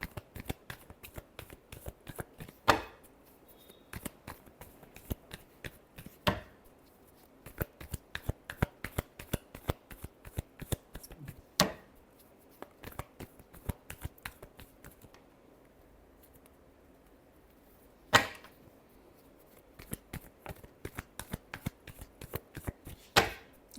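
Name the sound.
shuffling a deck of cards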